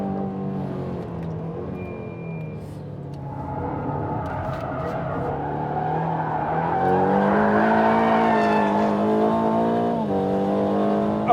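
A new Aston Martin Vantage drives on a race track with a steady, loud engine drone that rises in pitch as it accelerates, and a faint tire squeal in places.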